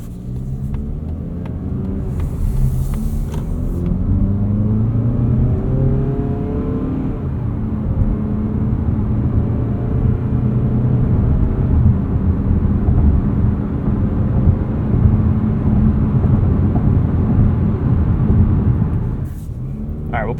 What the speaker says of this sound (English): And this engine does like to rev.